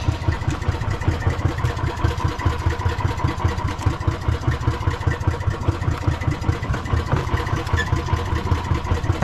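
Fishing boat engine running steadily with a fast, even thumping pulse throughout, close and loud with no talk over it.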